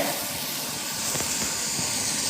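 Shrimp with garlic sizzling in a small frying pan, a steady bright hiss of hot oil throughout, fairly close and with no voices over it.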